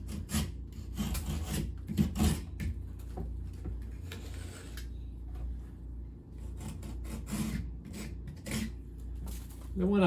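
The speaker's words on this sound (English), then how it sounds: "Taking my utility knife, I'm just going to remove any loose material along the edges of this repair." A utility knife scrapes loose material from the edges of a drywall repair in short, repeated rasping strokes with brief pauses between them, close up and fairly quiet.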